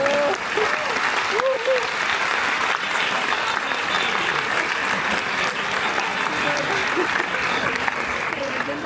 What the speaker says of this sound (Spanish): Este es el momento. Un aplauso,